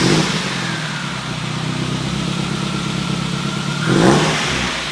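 A Mercedes 190E with a cat delete and minor exhaust modifications runs fairly quietly at a steady, subdued engine drone, with a brief swell in revs near the end. No one speaks.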